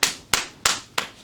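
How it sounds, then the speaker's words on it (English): Hand claps in a podcast recording setting: four sharp, close claps spaced evenly about a third of a second apart, each ringing briefly, with no talking. "clap for me?"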